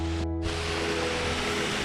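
River water rushes steadily just upstream of a waterfall, a close, continuous broadband roar with no voices over it.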